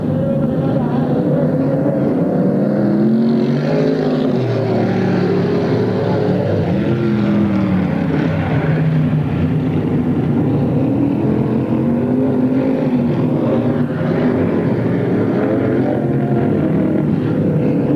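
Stock car engines roar around a racetrack during the Turkey Classic at Pearsonville, California, a loud continuous drone with rising and falling pitch as cars pass and slide through the turns.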